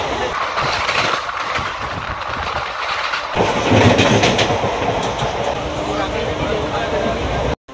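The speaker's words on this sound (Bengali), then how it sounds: "আমাদের ট্রেন এসে দাঁড়িয়েছে উলবেড়িয়া স্টেশনের 2 নম্বর প্ল্যাটফর্মে" A passenger train on the Santragachi to Digha summer special pulls into platform 2 at Uluberia station, with steady rumbling and clattering wheels on rails, a heavier low surge partway through, and people talking over the noise.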